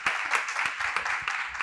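An audience at a talk applauds a speaker, dense steady clapping from many hands filling the room, continuous and moderately loud.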